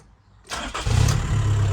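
A VW MK4 Golf with a boost leak cranks briefly and fires up, settling into a close, steady idle.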